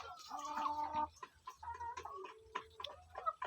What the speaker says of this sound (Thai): อันนี้จะเป็นไก่ไข่ของเฮา